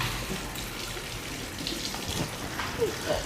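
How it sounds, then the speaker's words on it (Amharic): Running tap water splashes steadily into a sink while hands are washed, a continuous near gush throughout the short stretch with faint voices in the background. "ውሃ በደንብ ታጠቢ ያልኩሽ።"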